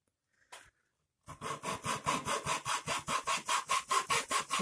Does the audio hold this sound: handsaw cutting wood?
yes